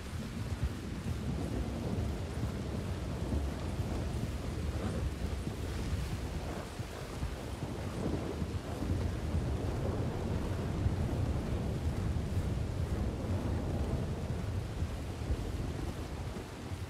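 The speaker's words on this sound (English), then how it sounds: "Thunderstorms and rain in this game is amazing though." A thunderstorm in Red Dead Redemption 2 brings steady heavy rain with deep rolling thunder and gusting wind, a continuous, fairly faint wash of storm noise with no voices.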